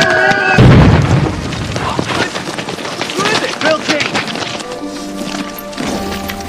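German rocket bombs from World War II land with deep booming explosions, a heavy blast early on followed by rumbling bursts and pops, all under a narrating voice.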